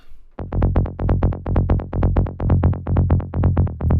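A punchy MIDI synth bass, unprocessed with no effects, pulses in a fast, even rhythm of short repeated notes, dry and upfront, playing alone.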